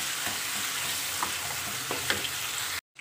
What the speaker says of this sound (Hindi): अब इसके साथ मैं इसको अच्छे से फ्राई कर लूँगी तब तक जब तक कि इसका कलर चेंज नहीं हो जाता।